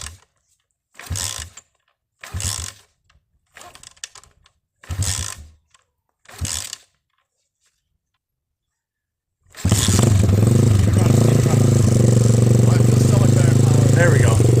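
A 110–140cc pit bike engine fires up for its first start after a top end rebuild, idling loud and continuous after several short bursts of cranking attempts separated by silence.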